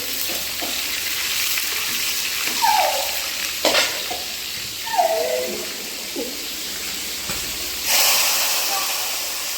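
Onions and curry leaves with mustard seeds frying in a home kitchen pan, a steady close sizzle broken by a few stirring scrapes and brief louder hisses as ingredients move.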